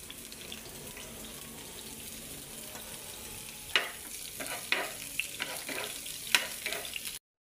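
Garlic and onion sauté in oil for homemade escabeche, a quiet, steady sizzle with scattered stirring clicks and scrapes that grow busier toward the end.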